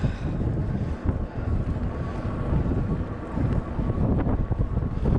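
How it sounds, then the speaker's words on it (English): Gusty wind blows on a climb beside a busy British waterway, a steady close rumble with buffeting on the microphone and no voices. "It's pretty gusty today"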